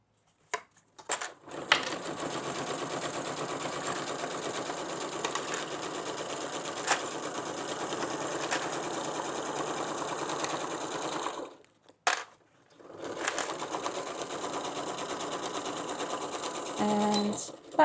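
Sewing machine stitching the fabric exterior of an Easter keepsake, a fast steady mechanical whir running for several seconds at a time, broken by two short pauses before the stitching resumes.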